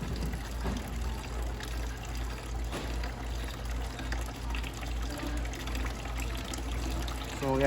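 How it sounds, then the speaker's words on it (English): Very hot water, around 160 to 170 degrees, runs and gushes steadily out of a Bio quantum unit being drained, a continuous close pouring rush with a low rumble and no talk. "just let it run so there's no more water coming out of it"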